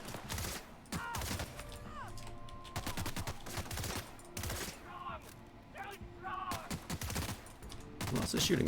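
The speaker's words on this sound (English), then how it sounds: "Who else is shooting me?" Gunfire in the video game The Outer Worlds: rapid, repeated shots crack in dense bursts throughout, with a few brief gaps, loud and close, mixed with other game effects.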